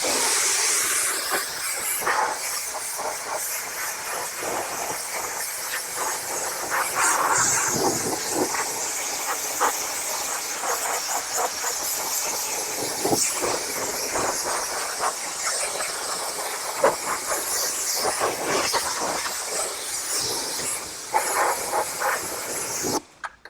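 A pressure washer sprays a final rinse over a vehicle wheel from top to bottom, a loud continuous hissing spray with fluctuating splashes and spatter, close up and without talk.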